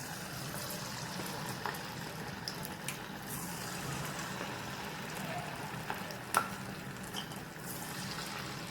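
Bhajiya fritter batter fries in hot peanut oil on a low flame, a soft, steady sizzle with occasional faint clinks, heard close and quiet.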